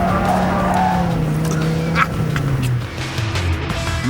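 A Dodge Viper SRT-10's V10 engine roars at high revs, its pitch sliding down through the gears while the tires squeal briefly, loud and close.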